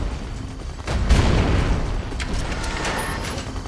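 Deep artillery cannon booms from Red Alert 2 sound over a busy battlefield, one heavy blast followed by rumbling, mid-distance impacts against steady background noise.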